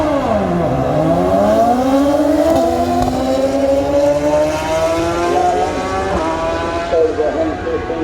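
A 2022 Suzuki Hayabusa motorcycle accelerating hard down a drag strip, its engine screaming through rising gear pulls with sharp shifts, loud and close throughout without talk.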